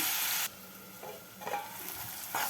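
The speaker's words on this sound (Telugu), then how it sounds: "బాగా మగ్గబెట్టుకుందాం ఉల్లిపాయలు" Onions sautéing in a pan for a home-style chicken curry: a loud burst of sizzling that drops off, then a steady low frying hiss with short scraping stirs, close by and with no talk.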